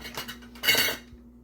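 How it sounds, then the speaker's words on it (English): A spatula scrapes and clinks against a dish while lifting vegetarian spinach and mushroom rolls in Alfredo sauce onto a plate, a short close metallic scraping burst with light knocks, no voices. "Let me get a spatula. And we're going to put this on a plate."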